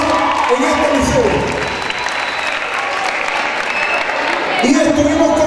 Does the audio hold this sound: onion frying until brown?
no